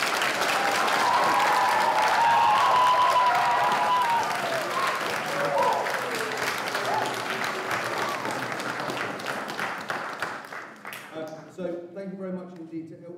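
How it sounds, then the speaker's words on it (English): Loud, dense applause from a school audience at a junior school production, filling the room before gradually thinning out, with a voice heard over it as the clapping fades. "So can we give all of the colleagues who have helped a really big round of applause?"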